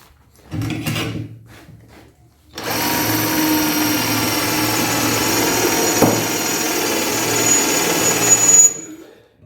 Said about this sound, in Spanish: Ese es el sonido particular de una broca que está perdiendo el filo.